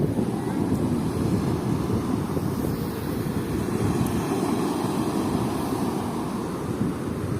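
Strong sea waves roll and crash steadily on a beach in heavy surf, with wind buffeting the microphone in a constant low roar and no clear voices.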